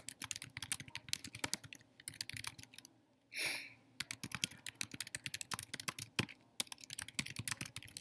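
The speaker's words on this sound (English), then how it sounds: "I'm going to write a description here." Rapid, close keystrokes on a computer keyboard in quiet bursts, with a short pause and a brief rustle midway before the steady typing resumes.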